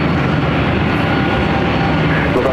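An airliner taking off from runway 24 left at LAX, a loud continuous engine roar and rumble that holds steady throughout, with no voices.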